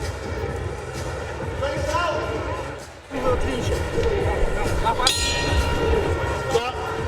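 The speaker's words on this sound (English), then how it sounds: "There's the bell." Boxing ring bell at a title fight, a single bright metallic clang ringing out midway through loud arena crowd noise, with a commentator talking over it.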